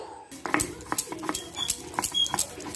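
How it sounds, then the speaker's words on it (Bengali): Cauliflower leaves being ground by hand on a stone slab with a grinding stone, giving close, rhythmic scraping and knocking strokes repeated steadily with no pause. "শিলনোড়াতে আবার আমি এগুলো বেটে নিচ্ছি"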